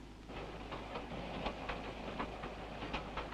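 A train rumbles along the rails with a steady, rhythmic clickety-clack of wheels over track joints, fairly faint and continuous, passing through sheep-raising country in Hawke's Bay, New Zealand.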